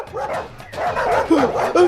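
A dog yips and barks excitedly in quick, close bursts mixed with whiny whimpers, filling the short moment, heard in a comedy scene where a dog is set on someone.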